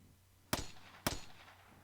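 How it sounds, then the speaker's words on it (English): Two sharp gunshots ring out about half a second apart in the Steins;Gate 0 video game, each a crisp crack with a short decaying tail over a quiet, faintly humming background. "And then more gunshots."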